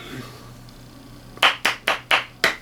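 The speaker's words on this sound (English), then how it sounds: "So he gets 5 out of 5 claps." Five sharp hand claps ring out in a quick, evenly spaced series, loud and close after a short quiet stretch.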